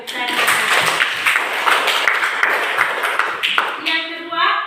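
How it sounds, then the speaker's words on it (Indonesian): A class applauding, with a dense run of hand claps that builds and fades over a few seconds, mixed with voices talking and calling out in the room. "Iya, mari kita beri tepuk tangan."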